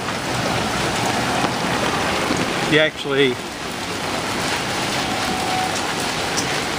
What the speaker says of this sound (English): So just a quick shot of what it looks like in the rain here.